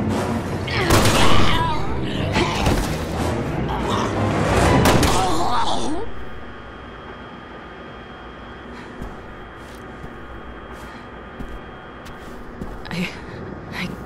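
Rapid gunfire in Resident Evil 6 rattles in dense bursts for about six seconds, loud and close amid shouting voices, then gives way to a low hum with a few faint knocks.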